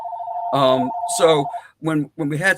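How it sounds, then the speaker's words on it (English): A phone rings with a steady electronic tone beneath someone talking, then cuts off as the speech continues. "that's my phone"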